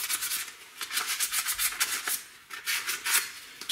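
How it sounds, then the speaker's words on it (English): Sandpaper rubbed by hand over the rusty brake caliper bracket of a Toyota Avalon makes quick, rhythmic scratchy strokes, close and moderately loud, with no talk. "If you have sandpaper, I'd like to do that. Just go over it a little bit."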